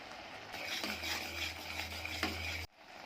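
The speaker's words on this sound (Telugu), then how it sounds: "వెనీలా ఎసెన్స్ వేసి మళ్ళీ కలుపుతూ ఉండాలి" A thick carrot and beetroot jam is stirred in a pan, with soft scraping strokes over a low bubbling hiss before it cuts off abruptly near the end.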